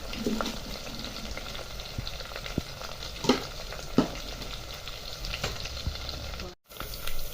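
Powdered spices (turmeric, red chilli) frying in hot oil for masoor dal, a steady close sizzle and crackle with a few sharp pops and stirring scrapes, briefly cutting out near the end.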